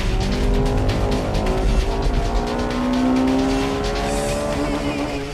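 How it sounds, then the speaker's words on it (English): A Honda Integra Type R race car on the tight Maze circuit howls past at high revs, with engine note sweeping up through the gears and other cars audible around it, mid-distance and fairly loud. "Here comes the Integra R."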